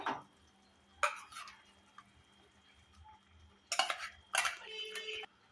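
A spoon stirs a masala paste of ground red chili, garlic and salt as it roasts in a pan, giving a few sharp metallic clinks and scrapes over a quiet background. The faint cooking sound is close by, and no one speaks.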